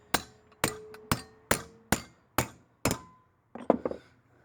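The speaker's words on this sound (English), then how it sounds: "using a brass hammer" A brass hammer taps a spring into an axle on a 10-bolt 8.5 rear axle unit: seven evenly spaced, ringing metallic strikes, close and crisp, followed by a few quicker, softer taps.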